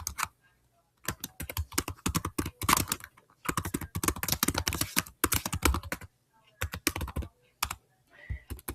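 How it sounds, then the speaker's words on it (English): Quick bursts of typing clatter on a Chromebook keyboard, rapid key taps in several runs separated by short pauses, close and fairly quiet. "let me just type some text"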